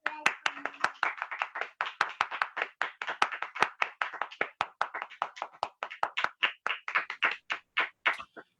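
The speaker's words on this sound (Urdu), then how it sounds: "تالیوں کے ساتھ ویلکم کریں گے" A church congregation claps in a fast, steady rhythm to welcome a preacher at a Christmas service, crisp hand claps continuing for several seconds with no talk over them.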